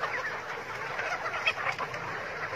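Young pullets cluck softly on a farm, a continuous murmur of close chicken clucks and chatter with no voices.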